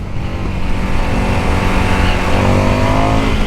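A 2022 Indian FTR S motorcycle pulls hard in second gear, its engine roaring loud and steady with a rising, continuous drone and heavy wind rush close to the rider.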